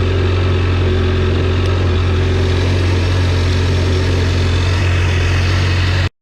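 A modified high-speed jet ski engine idles while warming up, holding a loud, steady, droning hum close by before it cuts off abruptly at the very end.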